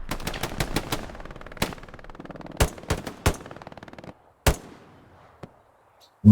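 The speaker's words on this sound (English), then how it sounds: "Great shooting there by the Vanguarda guys, getting killed" Shots in a competitive online shooter game ring out as rapid bursts of automatic fire, with sharp single shots spread through the clip. Loud and close, with no talking over it.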